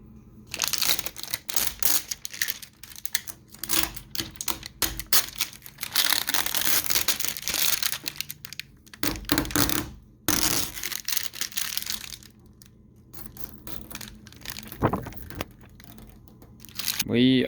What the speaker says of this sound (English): A little bit of knifeless tape action going on here.